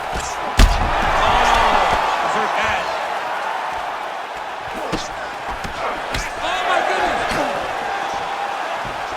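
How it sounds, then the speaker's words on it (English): A virtual arena crowd in the UFC 5 game swells and murmurs as the fighters trade strikes, with sharp impact thuds landing over it and a commentator talking throughout. "You hear the crowd react every time they come together"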